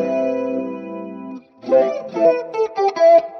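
Electric guitar with a shimmering chorus effect from a Hotone Ampero II Stage pedal: a sustained chord rings out, then after a short gap a series of choppy strummed chords follows.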